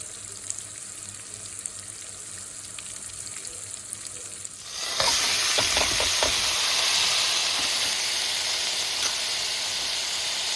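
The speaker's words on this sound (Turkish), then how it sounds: "Tavukları kızarttım arkadaşlar." A quiet room hum gives way to a loud, steady sizzle of chicken frying in hot oil, crackling continuously with a few stirring bumps.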